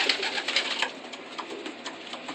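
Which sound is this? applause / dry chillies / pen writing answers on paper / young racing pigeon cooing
young racing pigeon cooing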